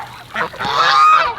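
Muscovy ducks, including wild ones visiting a farmyard, give loud, close honking calls in a continuous burst with no voices present.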